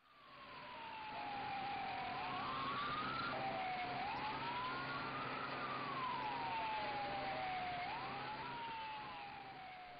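Fire engine sirens wail at a house fire in East Banjarmasin, South Kalimantan, with rising and falling tones over steady traffic rumble, loud and sustained throughout.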